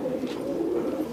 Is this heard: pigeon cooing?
yes